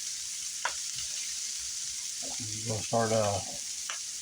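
Garlic and onions sizzle softly in a pan as they are stirred, a steady faint frying hiss under a few scrapes and a brief spoken word.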